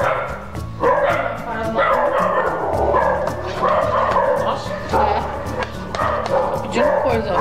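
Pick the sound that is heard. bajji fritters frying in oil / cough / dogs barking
dogs barking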